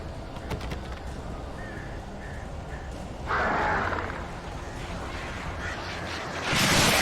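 Crows cawing in the Alan Wake video game, a few brief harsh calls early on, then a swell of noisy bird commotion and flapping that grows louder toward the end.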